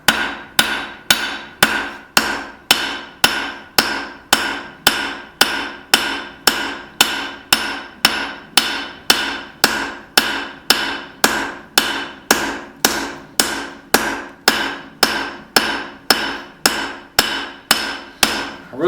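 Steady hammer blows ring out on hot spring steel as bevels are forged into a blacksmith's knife, around forty sharp metallic strikes at a brisk, even pace, close and loud with no talking.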